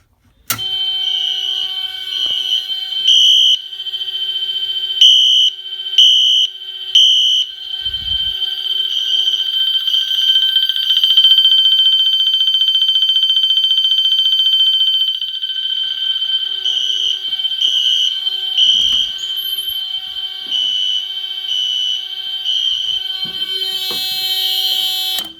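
A loud, steady electronic Potter T-Bar fire alarm horn tone sounds continuously for about twenty-five seconds, with brief pulsing beeps mixed in, close and piercing.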